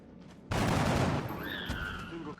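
A gunshot fired in the XCOM: Enemy Within turn-based strategy game, a sudden loud burst that stays dense and sustained for about two seconds before cutting off, with faint tonal game effects trailing over it.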